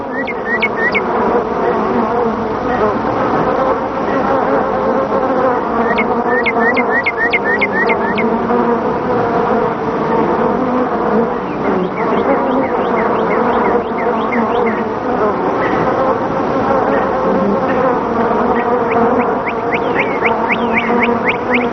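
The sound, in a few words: honeybee swarm buzzing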